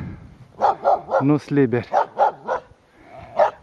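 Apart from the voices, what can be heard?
chained dogs barking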